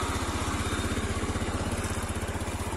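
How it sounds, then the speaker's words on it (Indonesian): An automatic scooter engine running on Federal Ultratech 10W-30 oil idles close by with a smooth, steady, low pulsing throb from the exhaust, heard alone without talk. "jadi suara mesin tuh agak halus gitu"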